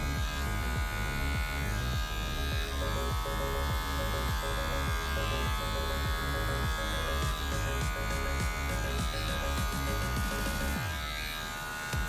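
Electric hair clippers with a 1/2 guard buzz steadily while cutting hair during a high taper fade, a loud close motor hum with a changing tone as the blades pass through the hair, running continuously without talk.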